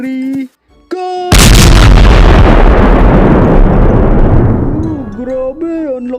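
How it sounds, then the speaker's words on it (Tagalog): A boga, a homemade PVC cannon, fires one huge, close blast that decays slowly over several seconds, with animated cartoon voices before and after it. "Grabe, ang lakas ng boga ko."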